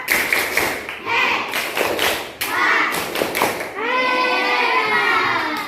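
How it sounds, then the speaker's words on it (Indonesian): Schoolchildren in an Indonesian classroom perform the patterned 'tepuk hebat' clap for a classmate: loud, close, rhythmic bursts of claps for several seconds, followed by a chorus of children's voices. "Tepuk hebat buat Anies, tepuk hebat"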